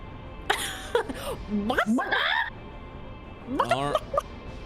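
A person vocally imitates clucking, squawking chickens as summoned dire wolves during a Dungeons and Dragons tabletop game, in two short bursts of warbling cries separated by a pause.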